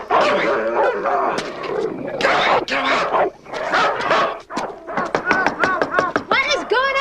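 A dog yips and barks in quick bursts, rising into a rapid run of sharp yelps toward the end, mixed with agitated human voices and shouting close by.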